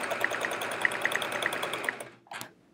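A domestic sewing machine doing swirl free motion quilting on a chevron quilt runs with a fast, steady whirring stitch rhythm. It stops abruptly near the end, leaving a brief soft mechanical sound.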